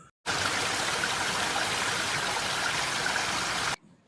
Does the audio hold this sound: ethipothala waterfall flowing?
yes